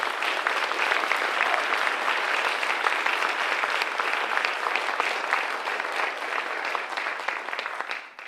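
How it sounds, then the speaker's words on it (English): Sustained applause fills a college honors and awards ceremony as the audience claps for students, an even, dense wash of many hands that holds steady and then cuts off at the close. "Please give another round of applause and recognition to our students this year."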